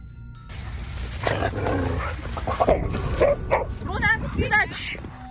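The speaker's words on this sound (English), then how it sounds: "Here, Lupi and Sontje started to be aggressive towards Runa." Two dogs snarl and growl at a Husky amid sharp, aggressive barks and yips, close by, with people talking over the commotion.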